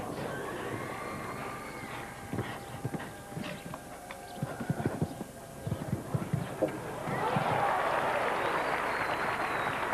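Horse hooves clip-clop over a show jumping course in an uneven run of thuds. A commentator talks over them, and a broad crowd roar or applause rises toward the end.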